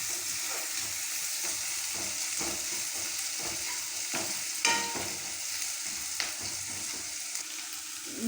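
Onion, ginger and garlic fry in hot oil with turmeric, a steady close sizzle broken by repeated scraping strokes of a spoon stirring the pan, with no talking.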